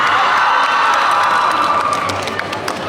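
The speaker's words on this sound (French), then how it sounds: "Till et Luca, on les applaudit." Audience at a cosplay contest during a gaming convention in Montpellier applauding and cheering for performers, a loud, sustained crowd roar with whoops and scattered clapping throughout.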